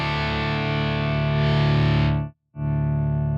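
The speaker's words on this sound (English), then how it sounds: "As you can hear, it's clearly out of phase." An electric guitar in stereo runs out of phase through a Quad Cortex, giving a sustained, distorted, hollow tone that cuts out abruptly for a moment before the chord resumes at full level.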